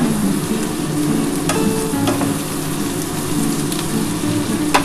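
Greens (puin shak) with vegetables frying and being stirred in fish oil in a pan, a steady close sizzle throughout with scraping stir strokes, no talking.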